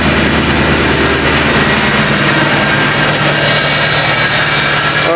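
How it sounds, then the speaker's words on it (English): Loud, steady idle of a Mercedes ML63 V8 heard up close, a deep even rumble with a constant low hum and no voices. "Yeah, there's the V8 sound."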